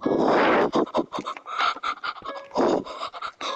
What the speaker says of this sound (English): Is that heavy breathing normal for you?